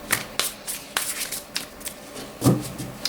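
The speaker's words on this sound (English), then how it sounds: "I will draw 3 cards for you." Tarot cards being shuffled and drawn by hand, a run of crisp riffling flicks and soft slides spaced across a few seconds, close and fairly quiet with no talking.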